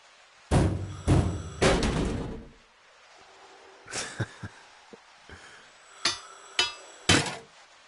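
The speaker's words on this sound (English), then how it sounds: "Smash with hammer. Special hammer." Hammer smashing impacts in the PlayStation VR game Mars Odyssey: two heavy thuds near the start, then a string of sharper strikes spaced about a second apart, with no talk.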